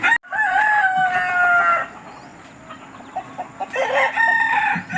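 A rooster crows loudly and close, then chickens cluck in short, irregular bursts. A second crow comes near the end.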